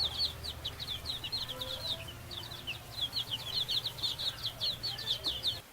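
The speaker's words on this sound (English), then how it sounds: "adorable little baby chicks are out in my hallway right now with a little heat lamp on them" Baby chicks under a heat lamp in a hallway peep in rapid, high-pitched chirps, a continuous overlapping chorus close by over a low steady hum.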